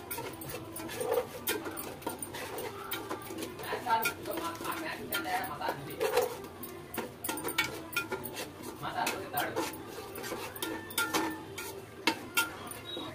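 Yogurt being stirred into egg biryani gravy in a cooking pot: a steady run of scraping and clinking of a spoon against the pot, close and continuous, with a voice talking faintly at times.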